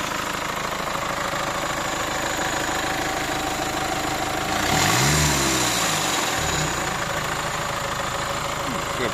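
A 2017 Kia Sportage GT Line engine cranks over and settles into a steady idle partway through, a near, even mechanical hum; people talk around it.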